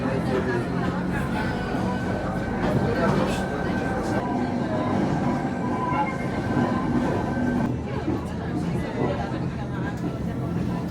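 Steady rumble of a train carrying passengers up to the Christ statue, with continuous rolling noise and people chattering throughout.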